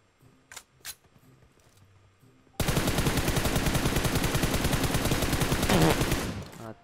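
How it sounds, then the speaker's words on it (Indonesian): Sustained automatic gunfire in PUBG in the Georgopol area, a loud, steady rapid-fire stream that begins abruptly after a few faint clicks and rattles on for about four seconds before cutting off. "Aku tembak."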